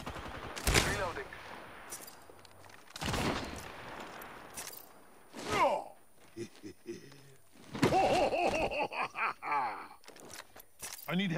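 Video game gunfire comes in several separate bursts with gaps between them, mixed with game voices and effects.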